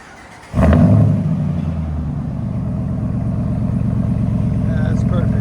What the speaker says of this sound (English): True dual Flowmaster Outlaws. Let you guys hear on the inside.